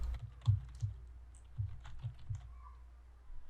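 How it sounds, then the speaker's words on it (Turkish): Quiet typing on a computer keyboard while entering a user's first and last name into L10 accounting software: sparse, irregular key taps in small clusters, soft and close with pauses between. "Kullanıcının adı ve soyadını yazıyorum."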